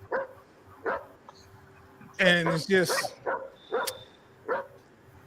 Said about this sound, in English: shut them damn dogs up